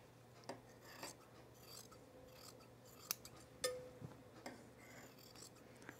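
Scissors trimming the fabric seam allowance while sewing Winslow culottes, a few faint close snips and rubbing fabric sounds spaced irregularly over a quiet low hum.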